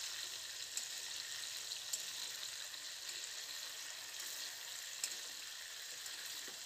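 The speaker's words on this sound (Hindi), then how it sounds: "अब देख सकते हैं ये फ्राई होकर थोड़ा थोड़ा लाल हो चुका है, और इसे चलाते रहे ताकि ये जले नहीं।" Ingredients for chicken biryani frying in a pan and stirred to keep from burning, a faint, steady sizzle with occasional soft stirring ticks.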